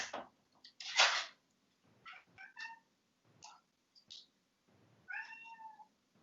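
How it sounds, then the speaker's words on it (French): A pet cat meows several times indoors, short separate calls scattered across a few seconds, fairly faint, with a longer drawn-out meow near the end. "si vous entendez mon chat miauler derrière"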